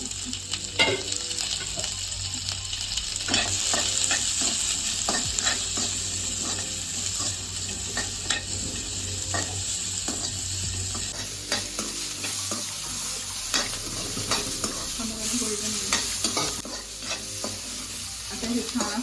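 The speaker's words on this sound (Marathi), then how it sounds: "टमाटर भाजून घ्यायचं नॉर्मली तेल टाक" Tomatoes fry in oil with a steady, close sizzle throughout, broken by repeated scraping strokes of a spatula stirring the pan; no one speaks.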